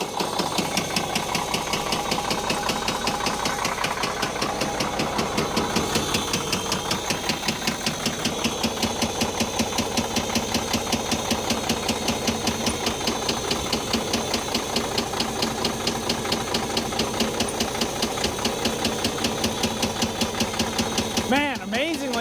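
A track loader engine runs steadily and roughly throughout, with a fast, uneven knocking rhythm, loud and close, with no pauses.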